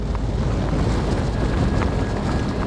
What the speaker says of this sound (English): this wind is very strong